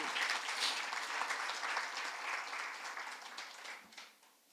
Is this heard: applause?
yes